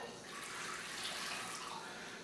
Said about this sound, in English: first thing I need to do is add our water to a bowl